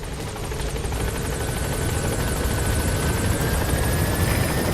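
The Pequod helicopter in Metal Gear Solid V arrives at a landing zone with a loud, continuous rotor roar and steady blade chop that hold unbroken throughout.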